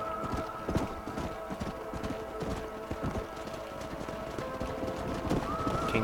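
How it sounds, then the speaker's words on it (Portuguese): A herd of horses gallops in Red Dead Redemption, a steady rapid clatter of many hooves over dirt with an occasional whinny, close and continuous under game sounds. "Tem que tocar os cavalos lá pro Canyon."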